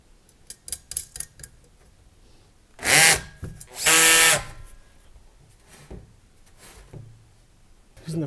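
A power drill drives screws to fix a steel bracket to the side of a Vex Air in-line range hood blower, two loud whirring bursts of a few seconds each amid small ticks and clatter.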